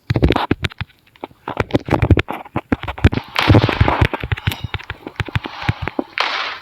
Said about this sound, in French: Il y a quelqu'un qui me lance des grenades.